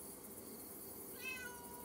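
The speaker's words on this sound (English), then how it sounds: "My outdoor kitties are hungry." Outdoor cats meowing hungrily, a faint single drawn-out meow rising late over a steady hiss of background noise.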